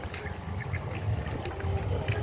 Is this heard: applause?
no